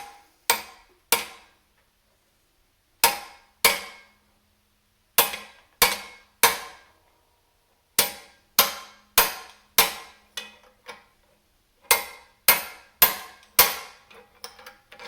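Hammer bumping a seal into place on a CJ5 Jeep during restoration, sharp metallic blows struck singly and in quick pairs or triples with short pauses, close and loud.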